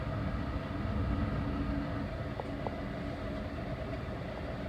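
LNER passenger train on the line between Leeds and London King's Cross, heard from inside as it slows: a steady low rumble of wheels and running gear with a couple of faint short clicks midway, no talk.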